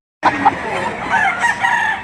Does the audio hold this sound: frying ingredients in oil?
no